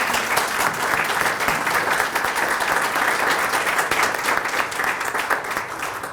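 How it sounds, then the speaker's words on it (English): Sustained applause from guests at an educational symposium gala dinner, steady and fairly loud throughout, a thick continuous patter of many hands that eases slightly near the end. "So can we give it a round of applause?"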